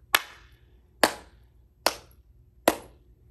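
Four sharp, evenly spaced hand claps ring out slowly and deliberately, each alone with a short decay, close and clear against near silence.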